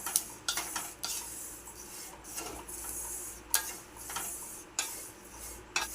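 Fennel seeds roasting in a pan on low heat while being stirred, with soft scraping and rattling strokes of a spoon against the pan, irregular and close, over a faint, steady sizzle.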